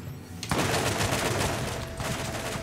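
A deployed turret in Borderlands opens up after a brief quiet start, hammering out sustained rapid automatic fire up close with a short dip midway before resuming, and no talk over it.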